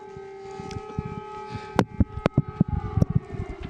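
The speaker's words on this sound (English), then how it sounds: "we can hear those air raid sirens" Air raid sirens sound over Kyiv, Ukraine, at nightfall: a steady tone holds in the background while louder, sharp impulsive knocks and bumps sit close to the microphone, with no talk.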